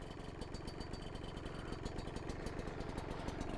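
A Kayo KT 250 two-stroke enduro motorcycle's engine buzzes close and loud, with a fast, even pulsing rhythm held steady under throttle.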